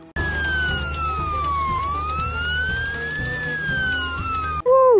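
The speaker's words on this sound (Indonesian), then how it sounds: "ada mobil ambulan." A wailing emergency siren sweeps slowly up and down close by, loud and continuous, then a short swooping yelp at the end.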